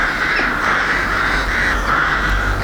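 Rook calls from a played birdsong recording: repeated harsh caws over a steady noisy hiss, continuous and moderately loud throughout.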